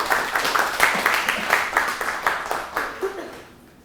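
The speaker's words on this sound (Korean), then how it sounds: "박수 부탁드리겠습니다." Audience applause at a university lecture, a moderate ongoing patter of clapping with some light laughter mixed in, tapering off at the end.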